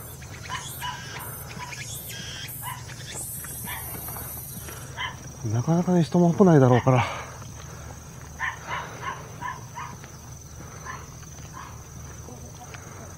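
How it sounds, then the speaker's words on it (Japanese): A dog barks in a short burst of several loud, close barks while walking past an ordinary house on a small rural island, with someone talking before and after under steady outdoor background noise. "犬に吠えられてます。"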